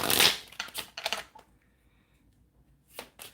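Playing cards riffle and snap in a few quick bursts, close and crisp, with a short quiet pause before one last brief shuffle.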